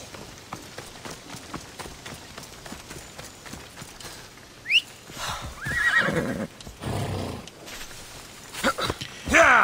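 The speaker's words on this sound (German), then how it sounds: "Nehmen wir das Pferd." A horse whinnies loudly while hooves clop in a quick rhythm in Assassin's Creed Odyssey, with sparse talk heard in between.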